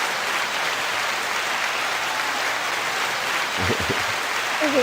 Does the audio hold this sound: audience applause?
yes